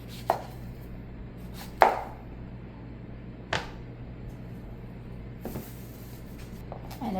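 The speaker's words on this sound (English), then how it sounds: "I did pull out my chopper." Vegetables chopped for a garden-to-table vegetable soup with a handheld food chopper: a few sharp, separate chopping knocks spaced several seconds apart over a quiet room hum, with no talking.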